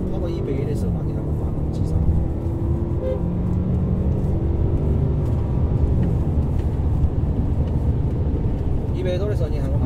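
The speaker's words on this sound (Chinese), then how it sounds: "也得感受一下零百加速" A new car accelerates from 0 to 100 km/h, its engine and road rumble droning steadily throughout, heard from inside the cabin with people talking over it.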